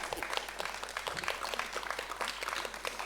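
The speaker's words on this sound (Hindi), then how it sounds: "सभी लोग जोरदार तालियां बजाएं" Steady, fairly faint applause from an audience at a community gathering, continuous clapping with no pauses and a low hum beneath.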